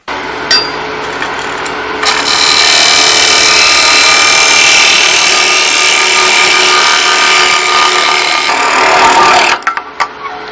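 A parting tool cuts off a wood turning on a spinning lathe, giving a loud, continuous scraping hiss for about seven seconds before stopping abruptly, with a brief tap before it starts and a few light knocks after.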